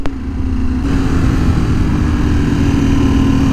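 A 2024 KTM 1390 Super Duke R EVO motorcycle cruising on a windy highway at about 60 mph, a loud steady engine drone with heavy wind rush throughout, close and continuous.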